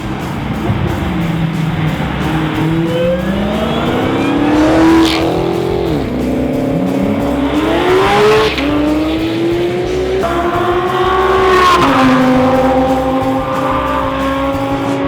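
A 650 hp Ferrari 488 GTB accelerates hard on a race track, its engine note climbing loudly through the gears with repeated rising sweeps and brief dips at each shift, heard up close and continuously.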